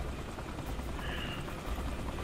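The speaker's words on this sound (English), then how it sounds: "It's a helicopter." A helicopter in Saints Row 3 gives a loud, continuous rotor and engine roar that stays close and steady throughout, with no talking over it.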